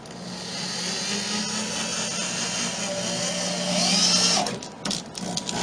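Power drill driving 2.5 inch screws to fasten square wooden blocks to 2x6 lumber sections for a desk leg, a steady motor whine that rises and strains before stopping, followed by a few handling knocks.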